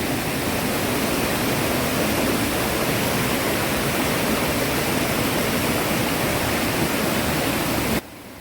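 Water rushes steadily down a small drop to a lower level at Kollengode, Palakkad, a dense, even hiss that continues without pause until it cuts off near the end.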